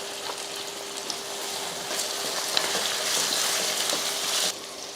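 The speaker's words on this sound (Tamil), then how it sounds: "இப்போ தக்காளியும் கத்திரிக்காயும் நல்லா வதங்கிட்டு இருக்கட்டும்." Tomatoes and brinjal sauté in a pan for a Kara Kuzhambu, giving a steady, close sizzle with faint stirring ticks. The frying hiss swells slightly before cutting off near the end.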